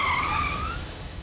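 A car braking hard to a stop with a sharp tire squeal that slides downward in pitch and fades out over a second, heard close with no talk.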